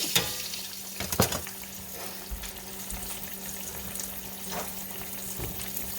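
Hot oil sizzles and crackles steadily as zucchini fries, with occasional louder pops and clinks nearby and no talking.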